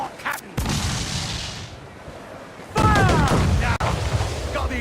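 Ship cannons fire during a naval battle in Assassin's Creed IV: Black Flag, heavy booming blasts over rushing sea and wind, with crew voices shouting.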